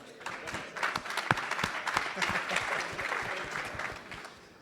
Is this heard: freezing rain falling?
no